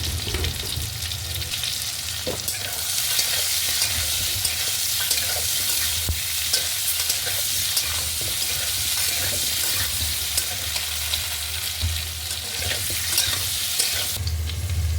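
Potatoes fry in a karahi with a little salt and turmeric in a village kitchen, a steady close sizzle with occasional stirring scrapes running unbroken throughout, no talking.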